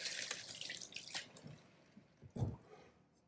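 Orzo pasta is rinsed under a running kitchen tap, giving soft, faint splashing and dripping with a few louder sloshes near the end.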